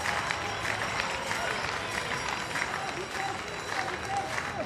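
Stadium crowd at a wheelchair 5000m track race applauding and cheering in a steady distant wash, with a commentator talking over it.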